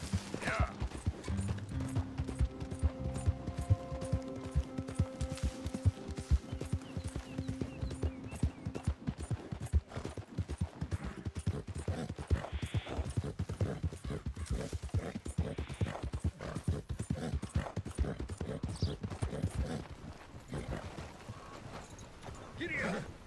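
Hooves clip-clop in a fast, steady rhythm as a horse gallops in Red Dead Redemption 2, running throughout with some mechanical clatter and voices speaking at times.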